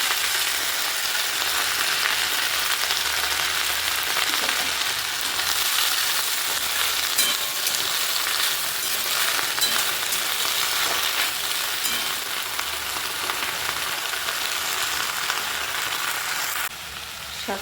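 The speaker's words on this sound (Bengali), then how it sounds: "শাকটা না কড়াইয়ে ভালোভাবে ভেজে নেব" Garlic and leafy greens sizzle and fry in a wok, a loud, steady crackling hiss that runs continuously throughout, with occasional stirring and no talk, then drops slightly near the end.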